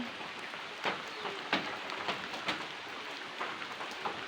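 Steady rain patters on a surface, with heavier drops landing now and then; no voices.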